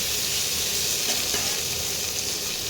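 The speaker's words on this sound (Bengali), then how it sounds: "এবারে একটু এগুলোকে ভেজে নিতে হবে চিকেনের এই পেঁয়াজের কালারটা চেঞ্জ হলেই এটাকে নামিয়ে ফেলতে হবে" Chicken pieces with onions sizzle loudly and steadily in a hot pan while cooking sesame chicken, a dense continuous frying hiss with no talking.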